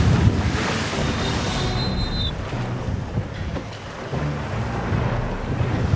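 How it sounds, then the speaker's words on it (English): Large waves up to about ten feet break and crest over the bows of racing sailboats at sea, a continuous loud rush of water and wind buffeting with no pauses. "some of them reaching 10 feet and literally breaking and cresting on the bows of the sailboats"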